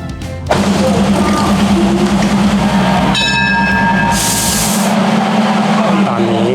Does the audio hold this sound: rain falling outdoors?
no